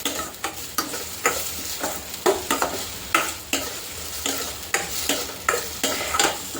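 Vegetables sautéing in a small amount of oil for spicy Yippee noodles, with loud, repeated stirring scrapes against the pan over a steady sizzle, close up and with no talking.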